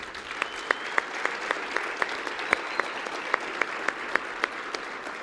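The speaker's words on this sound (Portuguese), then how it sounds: "Palmas." Audience clapping at a seminar or talk, a steady wash of applause with several sharp, distinct nearby claps punctuating it at a fairly even rhythm throughout.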